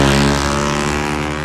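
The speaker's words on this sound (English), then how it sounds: "as that motorbike just zips across there" A motorbike zips past on a road outside a house in Sandridge Road, Melksham, a loud steady engine drone that holds through the brief moment, easing slightly as it goes by, with no talking.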